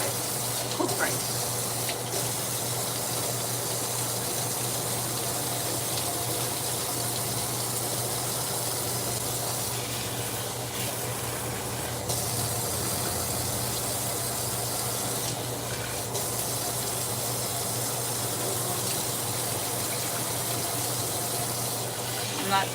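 Tap water runs continuously into a container of rice being rinsed, a steady splashing hiss with a low hum underneath and no pauses.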